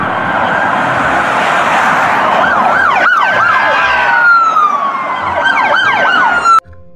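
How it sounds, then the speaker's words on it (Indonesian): Toy police patrol car siren wailing in repeated up-and-down sweeps, loud and close, running continuously before cutting off abruptly near the end. "Kalau yang ini mobil patroli polisi teman-teman."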